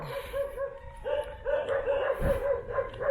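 Several stray dogs bark repeatedly in uneven bursts, sounding a short distance away outdoors in the Philippines, with a deep thud midway.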